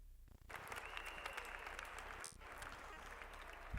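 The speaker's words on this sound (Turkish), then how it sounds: "Tüm sporcularımız için sizden çok büyük alkış rica ediyoruz." Spectators at a women's volleyball award ceremony applaud the athletes, a sustained, fairly distant roar of many hands clapping across a large hall, steady throughout with a brief dip midway.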